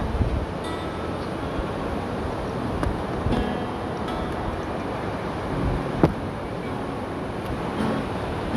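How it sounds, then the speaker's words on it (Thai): Soft sea waves wash steadily onto the shore at Pranburi beach in Thailand, a broad constant rush with faint wind, and no voices present. "ฟังเสียงทะเลเบาๆกับพวกเรา"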